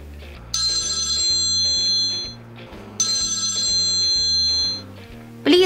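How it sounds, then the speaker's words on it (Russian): A telephone in a Barbie cartoon rings loudly in two long trilling bursts, each lasting about two seconds, with a brief pause between them and a soft musical backing underneath. "Да бери же ты уже телефон."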